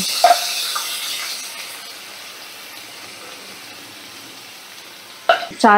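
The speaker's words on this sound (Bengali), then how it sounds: "সেই চালটা আমি এই যে আমি তেলের মধ্যে সব চালটা দিয়ে দিলাম" Soaked rice dropped into hot oil, a continuous soft sizzle and hiss, a few sharp clinks of a utensil near the start and louder rattling stirring at the end.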